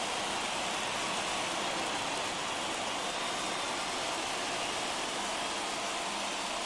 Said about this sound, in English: Not exactly ideal baseball conditions with the rain coming down